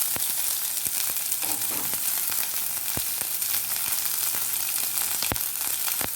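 Onion frying in a pan with curry leaves and ginger for masala dosa filling, giving a steady, loud, close crackling sizzle throughout with scattered sharp pops and no voices.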